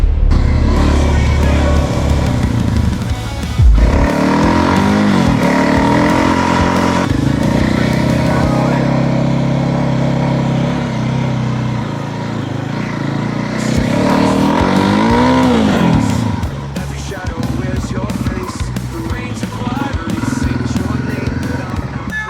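Loncin LX300GY SX2 PRO motorcycle with a 300 cc engine on studded tyres, riding on asphalt and braking: a loud engine note rising and falling with revs, slowing and pulling away again, under near-continuous speech from the rider.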